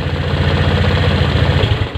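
A motorcycle engine idles steadily up close with a low, even pulsing throb, then cuts out abruptly near the end as it stops.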